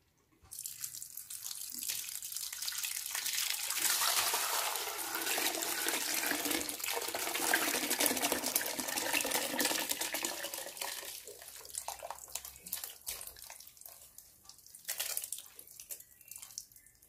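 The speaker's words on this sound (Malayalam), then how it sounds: "നമുക്ക് തോർത്തിലേക്ക് ഒഴിക്കാം." Homemade rose apple wine poured through a cloth towel into a vessel, a long continuous splashing gush of liquid that swells, holds, then tapers into a trickle with a brief final splash, close and alone.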